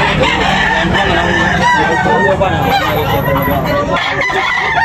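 Several roosters crow loudly and overlap, mixed with clucking hens and people chattering at a busy outdoor chicken market in Tabunok, Talisay, Cebu.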